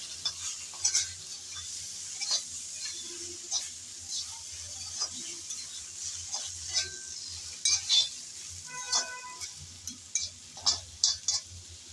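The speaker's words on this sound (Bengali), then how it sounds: "এখন মরিচ আর জিরা পাউডার দিয়ে ভালোভাবে নেড়ে চেড়ে ভেজে" Pointed gourd fries in a pan with chili and cumin powder while a spatula stirs and scrapes it, producing a low sizzle under sharp, irregular utensil clinks and scrapes across the whole stretch.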